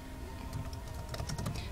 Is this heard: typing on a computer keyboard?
yes